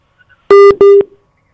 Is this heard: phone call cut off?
yes